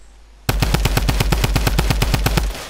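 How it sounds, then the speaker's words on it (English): Rapid automatic gunfire in a video game, a single loud burst of evenly spaced shots that starts abruptly, runs for about two seconds, then stops, with no talking over it. "Somebody's shooting them."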